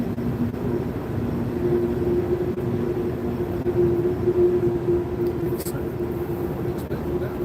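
A freight train rumbles past in a long, steady roar with a faint humming tone running through it, continuous from start to finish.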